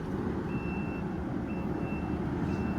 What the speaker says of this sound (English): The JCB was bleeping.